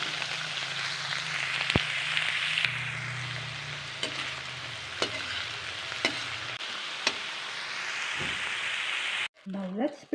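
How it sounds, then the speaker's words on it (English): Onion chives being stir-fried in a pan for onion chive pancakes sizzle steadily while a utensil scrapes and taps the pan at irregular intervals, close and clear. "Now let's stir fry the onion chives."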